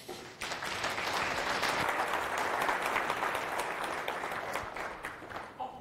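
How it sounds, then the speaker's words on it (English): An audience applauds a speaker at an open source sustainability talk, clapping swelling quickly after a brief pause and holding a steady, full patter before easing off near the end. "An applause for Michael"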